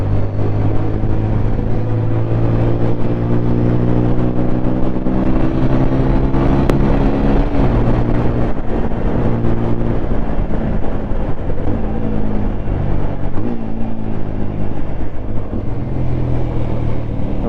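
Pulsar RS 200 and Apache RTR 200 motorcycles ridden hard through sharp corners, a loud continuous engine drone that rises and falls in pitch as the riders shift and lean, close to the mic throughout.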